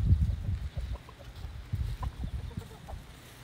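Chickens cluck in a backyard chicken pen, with short, uneven bursts of low clucking spread through the moment at close to moderate distance, alone with no talk.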